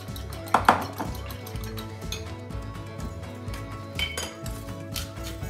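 Ingredients being beaten in a bowl for mini pizza, with a couple of sharp clinks of utensil against the bowl early on, then steady soft scraping and tapping with a few more clinks.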